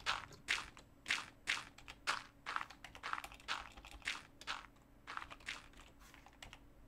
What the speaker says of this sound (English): that's called intimidation typing